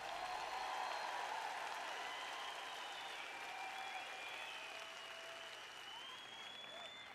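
Audience applause in a hall during a French-language sermon, a steady dense wash of clapping that fills the whole stretch and fades slightly toward the end, with no talking over it.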